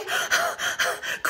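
A storyteller imitates a pig panting out of breath, producing five loud, rapid, breathy gasps in an even rhythm, close to the microphone.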